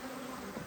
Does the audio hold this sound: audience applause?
no